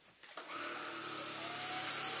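A cordless vacuum cleaner runs with a steady, close whir that swells slightly in loudness and pitch as it gets going, with no talking over it.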